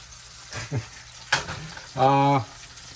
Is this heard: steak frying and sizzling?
yes